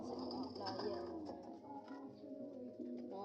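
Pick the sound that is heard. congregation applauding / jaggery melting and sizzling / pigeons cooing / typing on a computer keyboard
pigeons cooing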